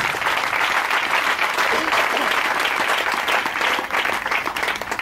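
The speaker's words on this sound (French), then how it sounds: "Est-ce que tu peux acclamer puissamment la parole de Dieu?" Sustained applause and acclaim from a church congregation at a Sunday worship service, a steady, loud wash of clapping and voices that fills the room without a break.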